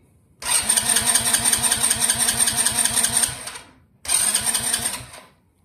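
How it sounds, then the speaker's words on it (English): A 110 cc ATV or dirt bike engine cranks and briefly kicks over in two loud, close bursts, a long pulsing run of about three seconds and then a shorter one, each dying away. "you just want to give it a couple cranks. You might even hear it kick over for a second"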